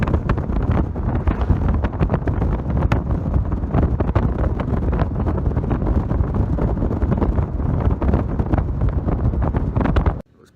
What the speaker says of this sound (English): Pretty windy, and you know, at nighttime